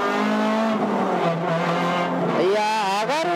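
A stripped-out Honda Civic EK4 with a swapped B18C VTEC engine screams loudly on track at Okayama circuit, its tone climbing and wavering through shifts as it accelerates from the cabin.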